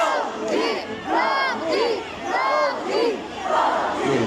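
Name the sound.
concert crowd cheering and chanting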